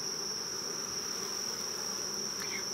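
Honeybees buzz around an opened hive as frames are pulled from a honey super, a steady close insect drone with a high whine, no talk over it.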